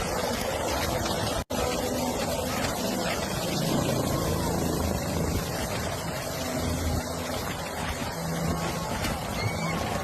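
A distant helicopter's droning rumble blends with gusting wind noise on the microphone, steady throughout apart from one brief dropout.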